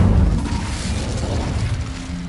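Incendio fire spell blast in Hogwarts Legacy, a loud roaring whoosh of flame with a crackling burst that stays steady and full throughout.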